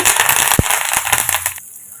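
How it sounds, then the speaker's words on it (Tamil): Mustard seeds, lentils and onion fry in hot oil, giving a dense, steady crackle and sizzle with one sharp pop near the middle before the sound thins out and softens toward the end. "இப்போ நம்ம போட்டதெல்லாம் பொறிஞ்சு வெடிச்சிருச்சுங்க இப்போ இதில் வெங்காயம் கருப்பில் வத்தலை சேர்த்துருக்கேன்"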